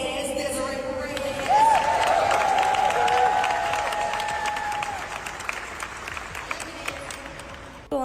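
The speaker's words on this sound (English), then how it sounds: "I want to give a round of applause to Desiree Perez." Audience applause and cheering erupt during a speaker's speech, a broad crowd roar that peaks early and then slowly fades, with a tonal voice or sound sliding over it.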